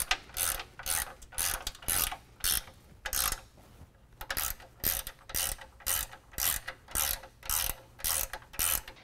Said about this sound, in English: Now I can go ahead and tighten down with a 3/4 inch wrench or ratchet both this bolt in the bottom